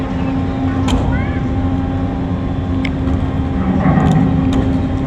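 A ship runs on just one of its engines, a steady low mechanical hum with a few faint higher tones, while someone talks over it.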